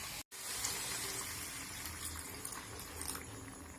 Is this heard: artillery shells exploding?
no